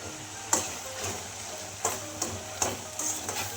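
A spoon scrapes and clicks against a pan while carrot halwa with dry fruits is stirred, the irregular strokes sounding close and fairly quiet over a soft, steady sizzle.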